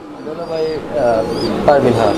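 Soft, low cooing of Parvin pigeons close by, repeated in short phrases, with a person talking over it.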